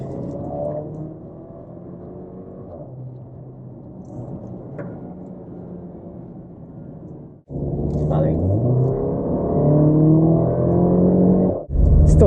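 A 2022 Porsche Macan on a night drive, fitted with 21-inch Cayenne Turbo replica wheels, gives off a steady low engine and road drone. It swells louder partway through while a person talks over it.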